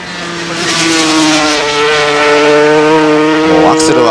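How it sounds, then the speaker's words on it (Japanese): A 1983 Japanese Grand Prix 500cc racing motorcycle engine screams loudly as it accelerates hard, its rising whine and rough harmonics filling the track, with a commentator talking over it. "あまりの激しいライディングにエンジン の加速する時の音が揺れてますね"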